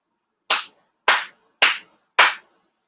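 A worshipper gives four crisp ritual Shinto claps at a Konkō grand ceremony, spaced about half a second apart, close and clear in otherwise silent surroundings.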